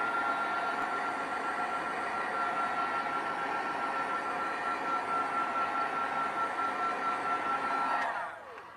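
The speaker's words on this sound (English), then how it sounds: "And you are going to hear, of course, the heat tool that's going to come in." Heat gun blowing hot air to dry paint on paper, a steady whooshing whine held for about eight seconds before it cuts off.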